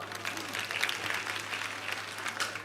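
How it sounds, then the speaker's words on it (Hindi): An audience at a religious discourse gathering claps together in a sustained burst of applause, a dense, even patter of many hands at moderate distance. "ताली बजाओ।"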